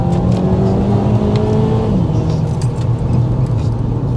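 A Seat Leon FR engine runs hard at high revs, a loud, close, continuous drone with a gear-like pitch drop around two seconds, heard from inside the car with no voices.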